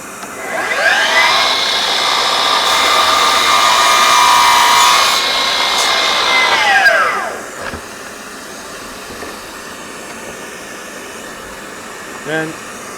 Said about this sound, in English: as the blade's spinning, you can see it does make a much crisper line